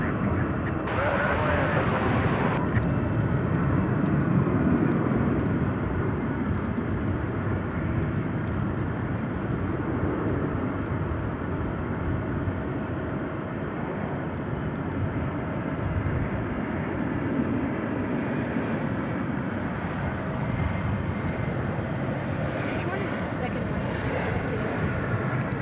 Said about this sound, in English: Here's the plane coming in from Florida